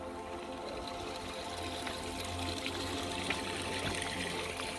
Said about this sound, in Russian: И тут постоянно вода бежит.